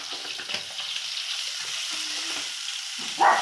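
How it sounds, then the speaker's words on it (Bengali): Soaked prawns hit a hot frying pan with a loud, steady sizzle and frying hiss, with light stirring scrapes and a brighter burst of sizzling near the end, no talking. "এবার এর মধ্যে আমি ভিজে রাখা চিংড়ি মাছগুলো দিয়ে দেবো।"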